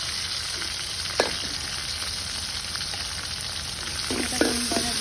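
Chopped onion sizzles in hot oil with bay leaf, cloves, cardamom and cinnamon on a clay stove, a steady close frying hiss with a few stirring scrapes and clinks of a utensil near the end.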